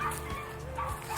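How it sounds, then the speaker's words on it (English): Dogs in a home barking and yipping excitedly in short bursts, fairly quiet and somewhat distant, with a faint whine between barks. "The dogs are going crazy."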